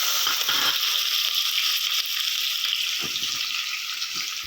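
Chopped onions fry in a pressure cooker with a steady bright sizzle, with a few faint metallic clinks and scrapes in the background and no talking.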